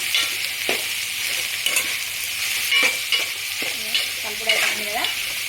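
Grated carrot and bottle gourd fry in a pan, stirred with a few distinct scraping and clinking strokes over a steady close sizzle, no talking.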